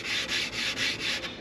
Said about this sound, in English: Of course, I'm sanding with the grain